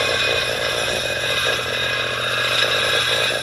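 Lapidary grinding wheel being broken in on a black opal, a steady close motor drone with a gritty rasping grind and faint pulsing wobble, continuous throughout.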